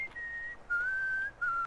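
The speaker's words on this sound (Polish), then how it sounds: "Nie gwizdź, bo zdradzasz swoją pozycję dla przeciwnika." Someone whistles in Max Payne 2, three clear sustained tones, each held and slightly wavering, with short gaps between them over a faint quiet background.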